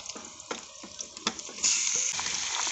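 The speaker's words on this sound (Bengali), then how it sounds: "এবারে মাখিয়ে রাখা মাংসটা দিয়ে দেবো" Marinated beef hitting hot mustard oil with browned onions and bay leaf, sizzling and frying steadily with intermittent stirring scrapes, rising to a louder continuous sizzle midway.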